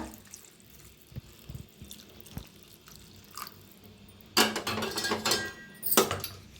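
Hot water poured into a pan of fenugreek mixture, a few faint drips and clinks first, then a louder splashing pour in two bursts.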